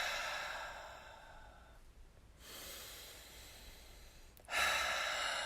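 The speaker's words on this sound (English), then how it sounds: "take a big inhale and a big cleansing exhale" Deep cleansing breaths during relaxing spa yoga: a long, airy exhale, a pause, a full inhale, then another strong exhale, close and breathy with no talk.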